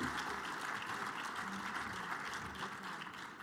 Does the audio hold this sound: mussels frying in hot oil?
no